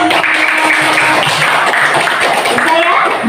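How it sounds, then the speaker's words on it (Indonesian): A group of students in a classroom claps together in a steady, dense burst of applause lasting several seconds, with voices mixed in underneath. "tepuk tangan kelompok"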